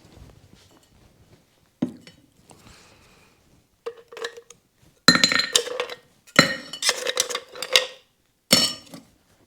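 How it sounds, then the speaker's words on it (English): Ice cubes drop into a cocktail glass, sharp glassy clinks and rattles arriving in several separate bursts, the later ones louder and denser, close up with quiet gaps between and no speech. "And then we add our ice."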